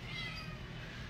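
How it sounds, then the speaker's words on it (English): Churro, a fluffy seven-month-old male cat at a pet adoption center, lets out a single drawn-out meow, close and moderately loud. "Oh, guys, look at this cat."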